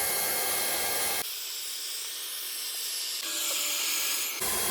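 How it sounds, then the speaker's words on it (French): A hot air welder heating and fusing a reinforced PVC pool liner strip, a steady close hiss of blown air that shifts in tone as the nozzle moves, with no talking. "Et je soude l'arrière en fait pour réduire la dernière quantité, la dernière largeur de bande"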